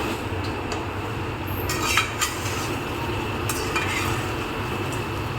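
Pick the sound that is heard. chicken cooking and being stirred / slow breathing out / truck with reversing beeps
chicken cooking and being stirred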